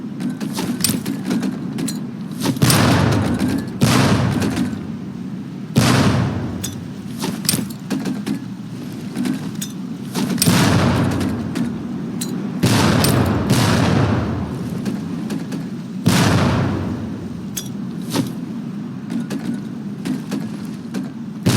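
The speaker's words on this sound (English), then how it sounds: "Pull the pin and let them fly. See if you can hit some of those barrels out there." Training grenades burst against barrels in a Medal of Honor: Pacific Assault boot-camp range, a series of heavy booming blasts spaced every few seconds over constant low rumble.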